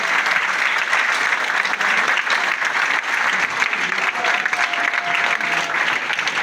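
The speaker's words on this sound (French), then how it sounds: "Sous vos applaudissements, de nouveau." Steady, dense applause from a large audience at a ceremony in Cameroon, continuous clapping at even loudness throughout with faint voices underneath.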